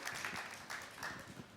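Studio audience applause on an Indian television comedy show, a steady wash of clapping that holds for the whole moment at moderate level with no voices over it.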